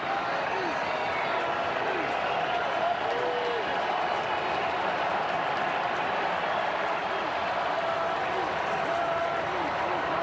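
A stadium crowd at a Phillies vs. Cardinals Wild Card playoff baseball game cheers and roars in a continuous, wide wash of sound, with a broadcast announcer's voice over it.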